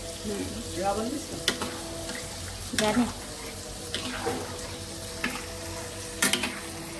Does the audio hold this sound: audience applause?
no